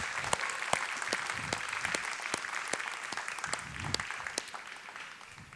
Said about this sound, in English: I say we give him a round of applause.